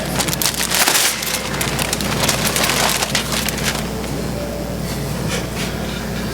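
A wrapped gift is unwrapped at a holiday party, with dense crinkling, tearing and rustling of paper close by that eases off after a few seconds.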